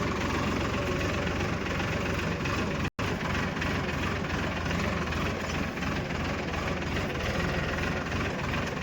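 A tractor engine idles on a farm, a steady low rumbling drone with a knocking vibration that runs unbroken apart from a momentary cut.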